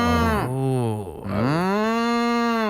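A person's voice imitates a cow mooing: two long, loud, drawn-out moos with a brief dip between them, heard alone at close range.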